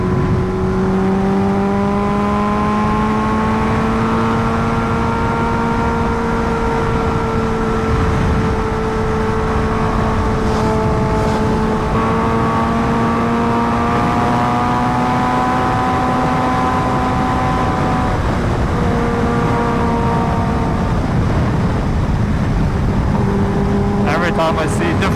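A Kawasaki Ninja H2R motorcycle at speed on an evening road, its engine a loud, sustained whine and drone that climbs and falls in pitch through gear changes, close and continuous throughout.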